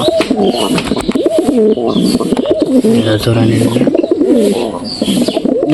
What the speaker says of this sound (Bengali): কবুতরগুলো দেখো কীভাবে ডাকাডাকি করতেছে দেখো